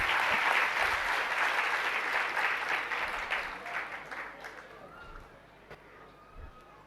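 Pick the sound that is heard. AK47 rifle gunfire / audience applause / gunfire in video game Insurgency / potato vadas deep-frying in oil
audience applause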